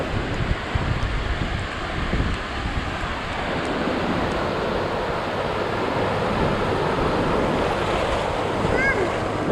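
Steady broadband wash of ocean surf breaking at a sandy beach in Wildwood, New Jersey, with continuous rushing water and wind noise; a few bird cries and faint voices of beachgoers come through in the background.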